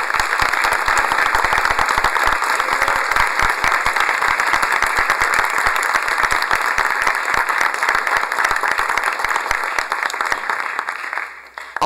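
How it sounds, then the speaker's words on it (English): Sustained, dense applause fills a state House chamber during a legislative tribute, a steady roar of many hands clapping at once that holds strong before tapering off at the very end. "Round of applause to Leah."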